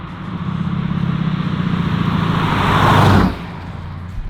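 A black 1967 Chevrolet Camaro SS Pro-Touring with an LS engine pulls away, its low exhaust rumble building steadily for about three seconds before dropping off sharply as it drives off, loud and close.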